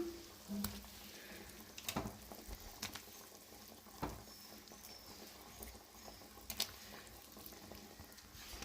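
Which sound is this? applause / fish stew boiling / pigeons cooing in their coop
fish stew boiling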